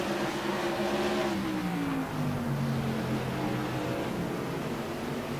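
Modified race cars roar through a turn at South Boston Speedway, a loud sustained engine wail whose pitch sinks as the cars pass, with several engines blending together.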